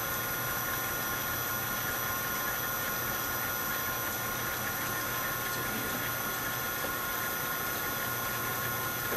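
A South Bend lathe driven by a VFD and running on its second pulley gives a quiet, even hum with a faint high whine, steady and unbroken throughout.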